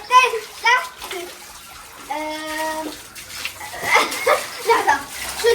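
Tap water runs and splashes into a filling bathtub at home, a steady wash of water beneath children's and adults' voices talking over it.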